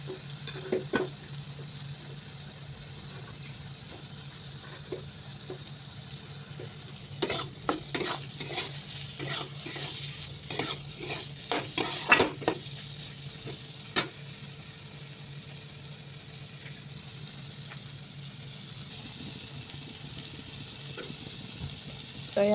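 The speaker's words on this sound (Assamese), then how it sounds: "তো এই আলুখিনি মই ভাজি আছোঁ।" Potatoes with turmeric and salt fry in a pan with a low steady sizzle, while a utensil scrapes and clinks against the pan in irregular bursts of stirring.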